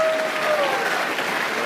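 A crowd applauding a speech, a broad, steady wash of clapping that holds at an even level throughout, with a faint voice briefly audible under it.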